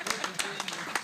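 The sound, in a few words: audience clapping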